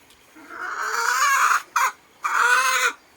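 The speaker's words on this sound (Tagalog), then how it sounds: "Yan, nagkakakak na to" A black hen cackles in loud, drawn-out bursts close by, two long calls split by a short sharp squawk, on a backyard with chickens and a wild junglefowl among them.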